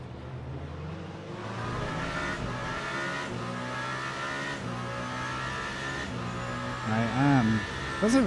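LMDH prototype race car engine in Le Mans Ultimate at Monza, a steady loud droning tone with shifting pitch through gear changes, near and continuous, with a voice talking over it and a late burst of rising revs.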